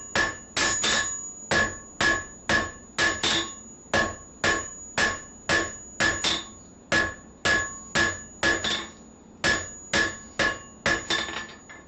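A hammer bangs on metal flats in about twenty sharp, evenly spaced ringing strikes, each with a bright metallic decay, close and steady with no talk.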